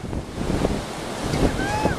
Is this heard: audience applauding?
no